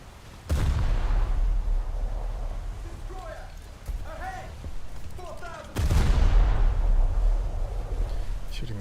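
Naval artillery shells firing in a low-tier boat video game: a heavy blast that rolls into a long rumble, then a second loud salvo later, with brief radio-like chirps between them.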